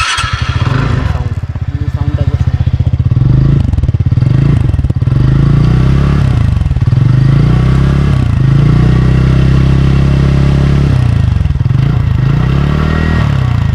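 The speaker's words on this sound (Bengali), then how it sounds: "গাড়ির সাউন্ড, একবার শোনো।" A TVS Ntorq 125 Thor Edition scooter engine runs nearby with a loud, steady mid-pitched drone and a few small swells in revs, with no speech over it.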